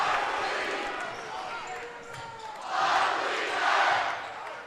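A packed crowd roars inside a small high school basketball gym during a boys' game between Creighton Prep and Westside, a steady wash of cheering that swells louder in two surges, with a commentator talking over it.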